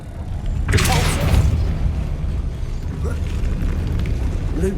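A Depulso spell blast in Hogwarts Legacy lands as a deep booming thump near the start, then fades into a rumbling low tail under softer game ambience.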